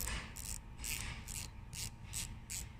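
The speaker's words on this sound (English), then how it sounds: "And check this out. It's like a ratchet, right?" Ratcheting wrench clicking in repeated bursts, about six strokes with short pauses between them, close and fairly quiet over a low steady background hum, with no talk.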